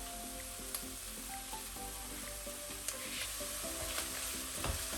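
Chinese cabbage, or suan cai, sizzles in a pan with light soy sauce as it is stirred, giving a quiet, continuous frying hiss with a few soft spoon knocks and scrapes, under faint background music.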